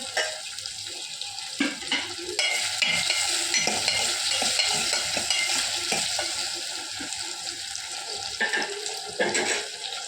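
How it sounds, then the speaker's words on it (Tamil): Small tomatoes sauté in a pan with steady sizzling and repeated stirring scrapes, close and fairly loud, with no one talking. "நல்ல வதங்கட்டும்"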